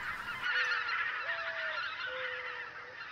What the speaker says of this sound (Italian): il vociare di una miriade di gabbiani che al minimo disturbo spiccano